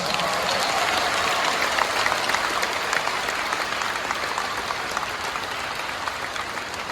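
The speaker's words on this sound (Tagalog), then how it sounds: "At ang gustong pagpalain, pumalakpak uli ng mas malakas." Devotees at a novena Mass at Quiapo Church for the Nazareno 2025 feast clap loudly together, a dense, steady wash of applause filling the church that holds strong throughout without talk.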